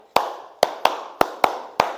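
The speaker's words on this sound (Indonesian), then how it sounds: "Nah, kemudian tepuk 5 kanan kiri atas" Six sharp hand claps in an uneven rhythmic pattern, played close and crisp in a quiet classroom, with short gaps and one quick pair. No voices are heard.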